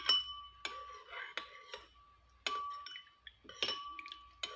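A spoon clinks repeatedly against the side of a glass or bowl while stirring homemade tomato sauce diluted with boiled water, sharp bright taps at irregular intervals with quiet gaps between, close up and without talk.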